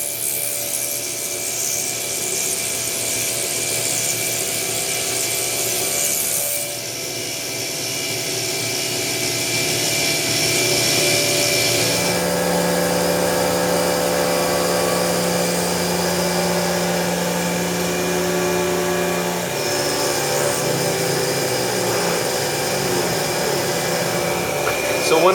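An end mill on a milling machine plunges helically into titanium, giving a steady grinding, rasping cut with a whining machine tone that shifts in pitch partway through, close and continuous.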